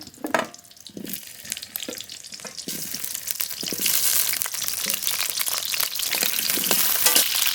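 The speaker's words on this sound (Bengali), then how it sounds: "মাংসর জন্য আলু ভেজে নেব" Cubed potatoes fry in hot mustard oil in a kadai, a steady sizzle building louder over time, broken by repeated scraping and clattering stirs, close up with no talking.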